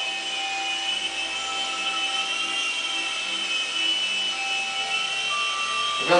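A Blade mCX2 small RC helicopter takes off and flies nearby, giving a steady, loud whining rotor and motor buzz that runs continuously without talk.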